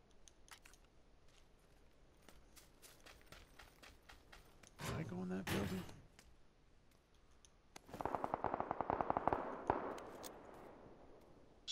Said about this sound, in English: This fucking automatic fire going on right over here